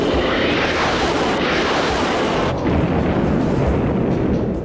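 A-10 Thunderbolt II Warthog attack jet firing its cannon with explosions, a dense, loud roaring wall of blasts and booming rumble that swells and surges throughout, without speech.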